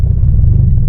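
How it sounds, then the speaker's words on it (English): Mitsubishi Lancer Evolution X engine idling low with a suspected tune fault, a loud, steady, deep rumble heard up close and alone. "it just wants to idle pretty low"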